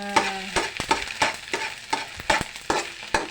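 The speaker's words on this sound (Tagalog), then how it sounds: "nag-prito kasi ako ng itlog" An egg scrambled in a hot pan, sizzling and frying while a utensil stirs and scrapes in quick repeated strokes about every half second, close and clear with no talking.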